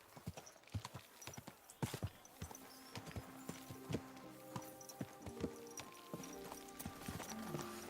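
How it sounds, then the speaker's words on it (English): Horse hooves clip-clop at a walking pace in Kingdom Come: Deliverance II, a steady close rhythm of wooden-toned knocks with a brief neigh, along with faint background ambience and no talk. "Easy, good horse."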